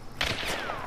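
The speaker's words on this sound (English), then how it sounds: "Oh, he shot at me." Gunfire from an enemy bot in a video game, a brief burst of sharp shots rattling out over about half a second amid steady game ambience, with no talking.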